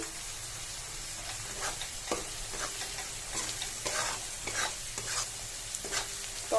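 Potato, soybean and chopped tomato fry in a pan with a soft, continuous sizzle, while a spoon scrapes and taps in a repeated stirring rhythm close by, with no talking.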